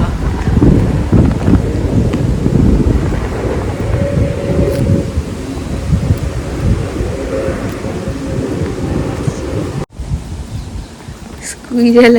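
Rough wind buffeting the microphone in steady low gusts, loud and close, with a brief voice near the end.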